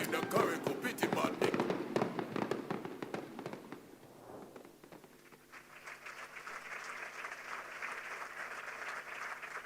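An audience applauds loudly at a ceremony marking Curaçao becoming an associate member of CARICOM. The dense clapping fades after about five seconds into a quieter, steady tonal sound.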